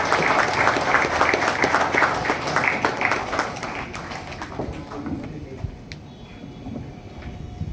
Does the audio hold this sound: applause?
yes